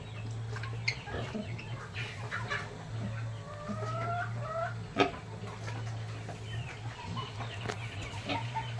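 A pure native Filipino rooster (barako) clucks and calls in short, scattered bursts at close range over a steady low mechanical hum, with one sharper peak midway.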